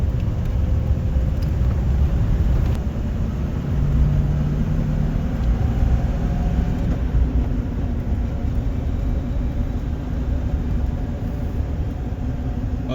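A 1993 Land Rover Defender 110 runs along a road with a steady, broad rumble of engine and road noise. The sound is continuous and even, with no talk.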